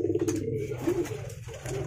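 A male racing pigeon coos nearby, a low soft throaty burbling repeated through the short moment, with faint background noise and no talking.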